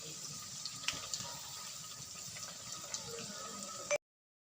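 Raw banana slices in batter frying in hot oil after being turned, a faint, steady bubbling hiss with a few small pops, ending abruptly in silence.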